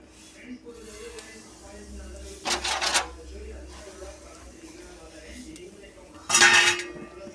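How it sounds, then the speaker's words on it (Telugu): Upma rava stirred in a pan with a flipper, two brief bursts of metal scraping and clatter over a quiet kitchen background, with a voice speaking in between. "ఇలా ఫ్లక్కర్ పట్టుకొని నాన్ స్టాప్ కలుపుకుంటూ ఉండాలి"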